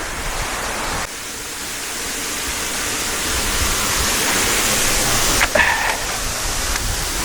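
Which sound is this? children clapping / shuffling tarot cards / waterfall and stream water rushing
waterfall and stream water rushing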